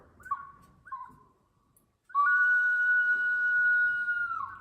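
A Chilean pottery whistle, a reproduction made to imitate a condor, gives two short hooting calls and then one long, steady, piercing whistled tone, loud and close with no talk.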